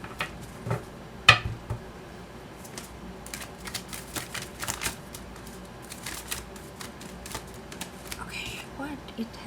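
Tarot cards shuffled by hand in short, crisp riffling bursts and soft slaps, close and fairly clear, with a few sharper knocks between them.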